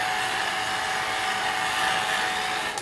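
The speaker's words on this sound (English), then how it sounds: "let me hit it with a hairdryer real quick" Hair dryer blowing steadily at close range to dry masking fluid on a holiday snowman watercolor painting, a continuous even airy roar with no talk.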